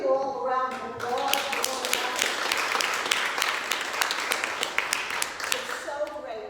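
A hall audience claps together in dense, sustained applause at a leadership panel event, loud and steady throughout with a few sharper claps standing out.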